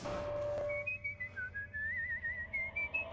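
A wavering whistled tune from the horror film Insidious: a thin, clear melody of drawn-out, sliding notes, fairly quiet and alone.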